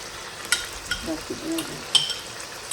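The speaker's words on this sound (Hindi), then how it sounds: "और ये साथ ही मैंने ये दही भी ऐड कर दी।" Yogurt stirred into sizzling chicken in a white karahi, with a steady frying hiss under scraping spoon strokes and a few sharp clinks of utensil against the pan.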